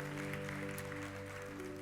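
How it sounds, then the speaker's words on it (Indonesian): Church congregation applauding during a sermon, a steady wash of clapping under sustained organ or keyboard chords that carry on throughout. "Kita kasih tepuk tangan yang paling dahsyat buat Tuhan kita"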